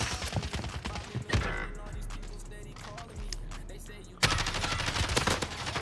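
Dual pistols fire rapidly in Call of Duty Warzone, with a quick stream of crisp shots, a brief quieter stretch, then another dense burst, all beneath excited talk.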